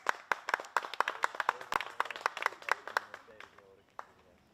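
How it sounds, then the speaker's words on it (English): Spectators clap at a disc golf event between the American and Australian teams, a brisk run of claps from a small group that is close and fairly loud before it thins out and stops. "some clapping there"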